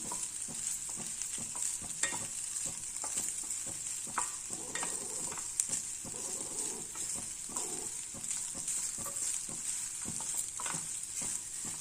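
Cooked rice being stirred into frying capsicum in a pan for capsicum rice: continuous scraping and sizzling, with frequent light spoon taps and faint bird cooing in the background.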